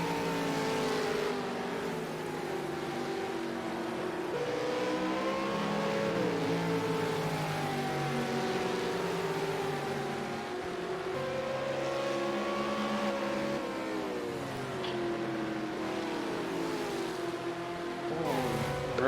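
Simulated V8 Supercars race engines on the Road America circuit in Project Cars 2, several cars droning and shifting pitch steadily throughout, loud and continuous with no talk.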